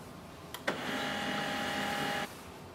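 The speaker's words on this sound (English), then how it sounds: "We can see the printer has switched off, restarted again, and the wireless light is flashing." An HP LaserJet M139we printer restarts after a factory reset: two faint clicks, then a steady whirring hum with a thin tone that runs for about a second and a half before cutting off abruptly. No one speaks.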